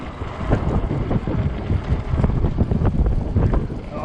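Strong wind gusts roar across the microphone of an Ecotric 20-inch 48V fat tire e-bike riding into 30 mph gusts on an 80-degree day, a loud continuous buffeting rumble that swells and surges throughout.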